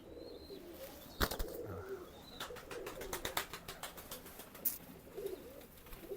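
Racing pigeons cooing softly in their loft box, low repeated coos mixed with sharp clicks and brief wing flutters, all fairly quiet and close.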